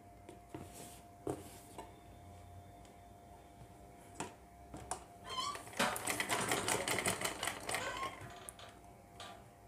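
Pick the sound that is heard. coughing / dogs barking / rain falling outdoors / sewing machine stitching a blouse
sewing machine stitching a blouse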